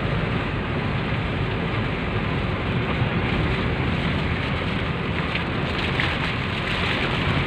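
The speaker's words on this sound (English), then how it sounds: "Always raining here in the Philippines almost every day." Steady heavy rain pours down in the Philippine mountains, a dense continuous hiss without a break, loud and close.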